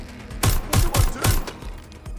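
Gunfire in the video game Watch Dogs: Legion: four sharp, booming shots in quick uneven succession, loud and close, over a low background hum with no voices.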